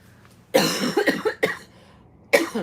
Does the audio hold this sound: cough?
yes